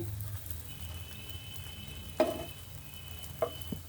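Eggs frying in a pan for a fluffy Bengali-style fried egg, a soft steady sizzle low in the background with a few brief clinks or scrapes of a spatula, no talking.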